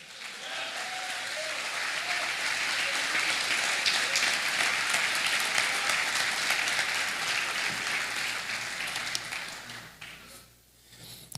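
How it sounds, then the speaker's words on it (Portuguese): Church congregation applauding during a worship service, a dense, loud wash of many hands clapping together that holds steady for several seconds before thinning out near the end. "Você pode aplaudir o Senhor Jesus?"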